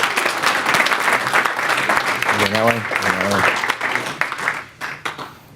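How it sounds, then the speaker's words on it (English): Audience applause at a startup weekend event fills the room for several seconds, loud and dense, then thins out toward the end while a voice speaks over it. "let's give the judges another round of applause for coming out here"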